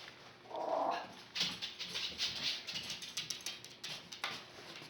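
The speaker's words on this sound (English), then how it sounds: "Here's my fat little dog." A dog whimpers softly with a brief high whine, followed by light pattering and shuffling sounds nearby.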